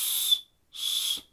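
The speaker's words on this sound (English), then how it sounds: "Striker actually has a whistle on it." Two short shrill blasts from a small whistle built into a ferro rod striker of a survival kit, each about a third of a second, close and alone.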